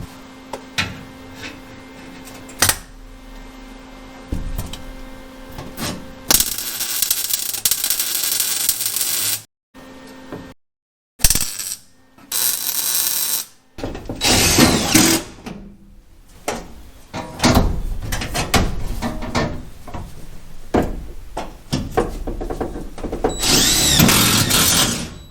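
A power tool cuts out the rusted floor pan of a Chevy Nova in harsh, loud bursts broken by short pauses and brief clanks.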